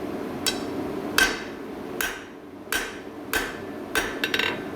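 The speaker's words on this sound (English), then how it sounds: "I'm going to hammer right here, right at that crest." Hammer strikes on metal being worked from square to round at the corner crest: about seven sharp, ringing blows spaced roughly a second apart, close and clear, the last few coming quicker, with no talk.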